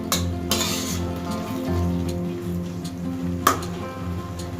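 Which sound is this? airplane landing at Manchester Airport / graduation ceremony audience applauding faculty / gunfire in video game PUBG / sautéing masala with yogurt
sautéing masala with yogurt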